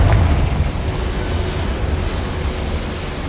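A Confringo fire spell detonating in Hogwarts Legacy, a loud, dense explosive rumble with a sharp burst at the start, then a sustained roaring blast that carries on through the whole moment with no talk.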